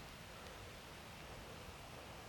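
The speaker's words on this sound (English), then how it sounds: "Now it's starting to rain a bit more now, doesn't it?" Steady rain falling outdoors in Bali, a soft continuous hiss of drops with no breaks, fairly faint and alone without talk.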